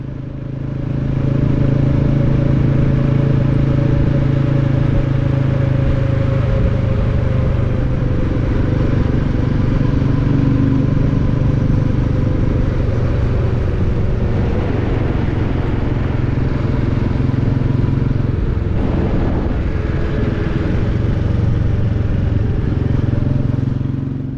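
A Royal Enfield Classic 350 motorcycle being ridden on a run to the Borders, its engine a loud, continuous low drone with wind rush throughout, no speech.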